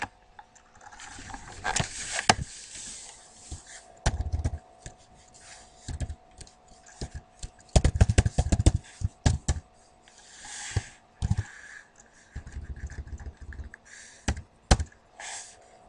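Shell commands for a Unix KornShell session are typed on a computer keyboard in quick close bursts of clicky keystrokes, broken by short pauses and a few louder key presses, with no talking.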